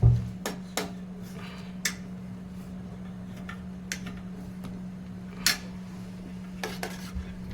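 A utensil scrapes and clinks against a pot while palash flower soap mixture is stirred over heat, sparse sharp metallic taps scattered over a steady low hum, close by with no talk.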